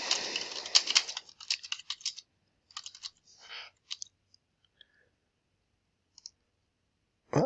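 Someone types on a computer keyboard close by: a quick, fairly dense run of clicks at first, then scattered single keystrokes that trail off into silence.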